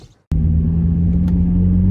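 After a brief quiet moment, a car engine kicks in suddenly and holds a loud, steady low rumble close by, with no talk.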